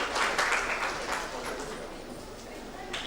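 Audience applause at a special event at a club in Kanpur, a dense burst of clapping that starts loud and slowly thins out.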